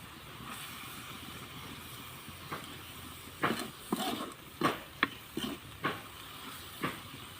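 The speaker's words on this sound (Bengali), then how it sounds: "ভর্তাটাতে এখন আমি একটু সরিষার তেল দিয়ে যে কড়াইতে বসাই দিলাম" Sidol fish paste bhorta in mustard oil in a wok, a soft steady sizzle with a handful of short scraping stirs and clinks spaced irregularly, fairly quiet and without talk.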